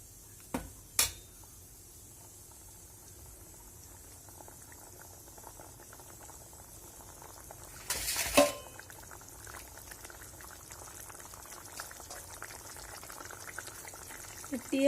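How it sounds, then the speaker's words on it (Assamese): Gram flour mixture simmering in a pot, a soft steady bubbling that runs throughout at low level, broken by a few sharp clinks near the start and a brief louder burst partway through. "বেচনখিনি দি লৰাই আকৌ উতল আহিবলৈ দিম।"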